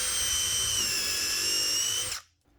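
A Star M drill bit spun in an impact driver boring a hole, a loud, steady high-pitched whine with a sharp tonal edge that holds for two seconds before cutting off abruptly.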